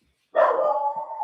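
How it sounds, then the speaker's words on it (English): A dog barks once, a loud, close, sustained bark or yelp that starts abruptly and carries on in a steady tone for about a second, heard alone without talk. "Oh, my dog barking."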